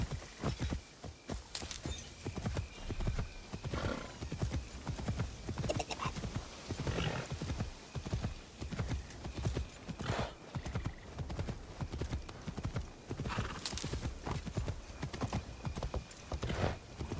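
Horse hooves clip-clop at a walking pace through a town in Assassin's Creed Shadows, with a whinny rising briefly among the steady footfalls, close and fairly quiet.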